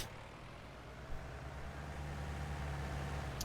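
Tractor engine in the Farming Simulator 19 game, a constant low droning rumble that holds steady and grows slightly louder toward the end.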